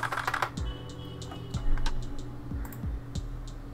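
Typing on a computer keyboard: a quick run of close, crisp key clicks in an uneven rhythm over a low steady hum.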